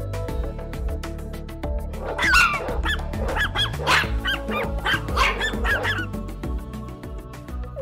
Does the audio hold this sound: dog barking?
yes